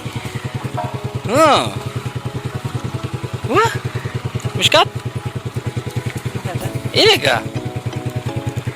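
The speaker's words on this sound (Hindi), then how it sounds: "बाइक पहुँच गई हमारी" A motorcycle engine idles close by on a road trip in Chitral, its steady rapid putter running throughout while people talk over it in a few short bursts.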